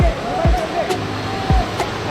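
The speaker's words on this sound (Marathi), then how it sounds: "मित्रांनो बघू शकता तुम्ही, हा वॉटरफॉल बघू शकता." A hidden waterfall near Thane, with deep pools below, gives a steady broadband rush of falling water, close and constant, while low thumps and faint higher tones sit over it.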